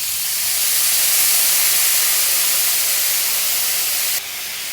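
Balsamic vinegar hits a hot pan during pot roast preparation and gives off a loud, steady steamy hiss that holds for several seconds, then drops suddenly in level near the end. Nobody speaks.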